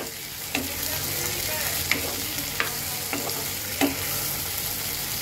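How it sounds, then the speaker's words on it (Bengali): Chopped tomato frying in a pan for a prawn dish gets stirred, a steady close sizzle running throughout with a few scattered scrapes and knocks of the spatula against the pan. "এবার একটু নেড়ে দেব।"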